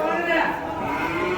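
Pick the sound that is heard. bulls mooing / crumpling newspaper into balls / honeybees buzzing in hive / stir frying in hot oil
bulls mooing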